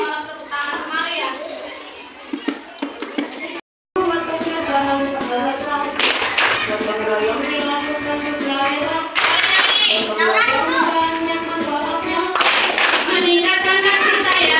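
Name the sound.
children clapping hands in classroom clapping game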